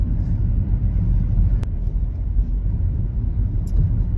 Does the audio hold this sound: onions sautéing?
no